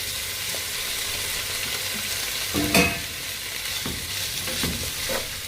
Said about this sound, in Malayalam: ഈ കഴുകി വാരി വെച്ചിരിക്കുന്ന സോസേജ് മുഴുവനായിട്ട് ഇട്ട് കൊടുക്കാം. ജസ്റ്റ് ഒന്ന് വഴറ്റി എടുക്കണം.